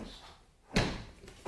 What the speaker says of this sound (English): So I opened the door.